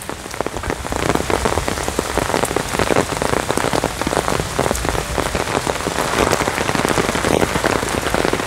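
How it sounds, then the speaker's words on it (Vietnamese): Early-morning rain pours down in a constant close hiss of drops hitting surfaces, holding steady and fairly loud from start to finish with no voices. "Đi chợ mới sáng sớm đi chợ là mắc mưa rồi."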